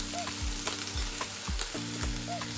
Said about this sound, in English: It's like I'm frying, because even the courgette has water.